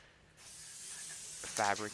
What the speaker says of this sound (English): You just spray it, and then after you're done spraying